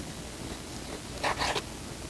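Knife slicing thin strips of beef for jerky, a single brief close scraping cut of about a third of a second, quiet against a faint hiss.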